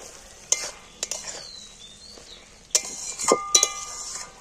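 Okra frying with simple spices as a spatula scrapes and clinks through the pan in several sharp strokes over a soft sizzle.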